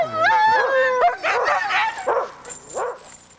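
Sled dogs from an Iditarod team bark, yip and whimper close by in a busy sequence of sharp yelps and whiny howl-like cries that taper off toward the end.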